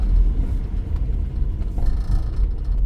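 A Honda all-wheel-drive car's engine idles smoothly at operating temperature, a steady, quiet low rumble heard from inside the cabin with no talking.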